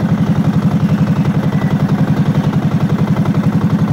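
A Mitsubishi 4DR5 diesel boat engine runs steadily nearby, its fast, even clattering pulses loud and continuous throughout with no voices.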